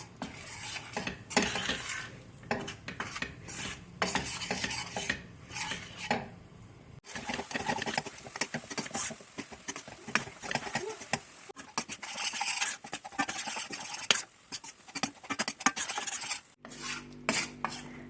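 Two glasses of flour roasting in oil in a pan for Turkish halva, stirred constantly with a utensil that scrapes and clinks against the metal in busy, uneven strokes, close and fairly loud.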